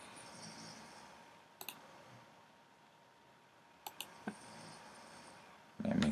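A computer mouse clicks while Archicad objects are downloaded: a handful of sharp, close clicks spaced apart, with a paired click near the middle, over a quiet room hiss.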